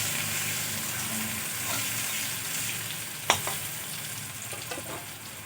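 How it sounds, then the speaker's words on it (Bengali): Chopped onion fries in a pan with a steady sizzle, and a sharp clack of a spoon against the pan comes partway through, followed by softer scraping stirs. "পেঁয়াজটা হালকা করে ভেজে নেব"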